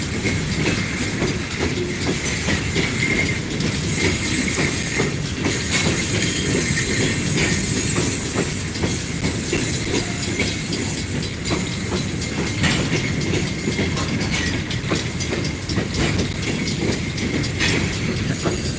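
A freight train hauling coal cars rolls past at trackside near Mount Hope, West Virginia, with loud, steady clatter and rhythmic wheel clicks over rail joints that continue unbroken for the whole stretch, close and dominant.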